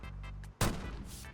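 A single sharp, loud gunshot from a weapon in Call of Duty Black Ops 6 bursts out after a moment of soft tonal game sounds, then fades quickly.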